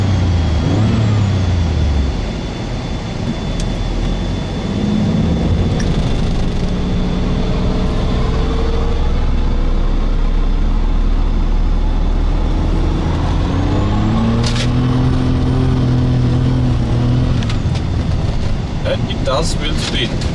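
A BMW E32 750iL with a V12 engine accelerates in first gear, its engine note rising and falling through several revving sweeps while someone talks over it.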